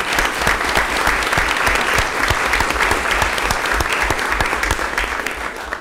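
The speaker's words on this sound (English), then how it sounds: "So I think a round of applause goes to them." Steady applause fills a city meeting in Brownsville, many hands clapping together at a constant, fairly loud level that fades slightly at the end.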